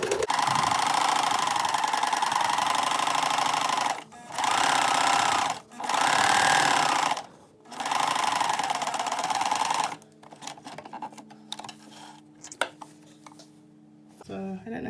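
A sewing machine topstitches a pant front in long, loud whirring runs broken by short pauses, then stops, leaving quiet handling clicks and small taps near the end.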